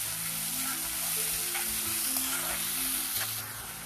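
Ground tomatoes frying in a pan, a steady hiss and sizzle with faint stirring, close and even, fading slightly near the end with no voices.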